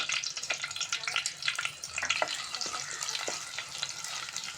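Cumin seeds and garlic crackle and sizzle in hot oil, a busy, continuous frying hiss with sharp pops and occasional stirring scrapes, close and fairly loud.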